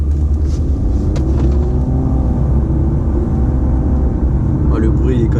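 Racing video game played with a steering wheel: a steady, loud car engine rumble drones throughout with slight revving, while someone talks over it.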